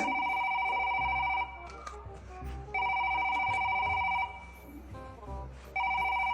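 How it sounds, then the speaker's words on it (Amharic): A telephone rings in repeated bursts, loud and close, with short pauses between rings and some faint background noise underneath. "ቦስ ስልክሽ እየጠራ ነው።"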